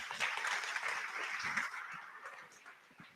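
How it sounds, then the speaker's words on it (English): An audience at a conference talk applauds, fairly faint clapping from a crowd that fades slightly toward the end, with no speech over it. "If we could have a big round of applause, please, everybody."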